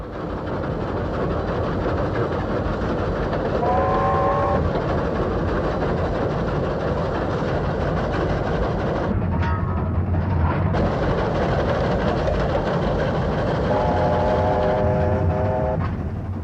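Steam locomotive 3801 runs with a loud, continuous mechanical roar, and brief tonal whistle-like notes break through twice over the steady rumble.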